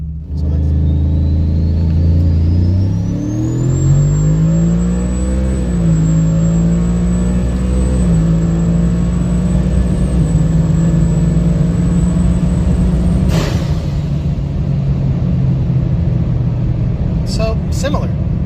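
Turbocharged Ford F150 pickup truck accelerating hard in manual mode, a loud steady engine drone rising in pitch with audible gear shifts, close and continuous throughout with a brief sharp burst near the end.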